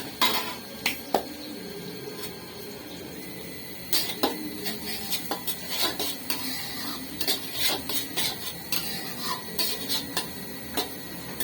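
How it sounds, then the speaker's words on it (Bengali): Onion and garlic being fried for fried rice and stirred in a pan, with sharp scraping and clinking of a utensil against the pan in irregular bursts over a steady low sizzle, no voices. "এখন পেঁয়াজটা আর রসুনটা আমরা আরেকটু ভাজবো।"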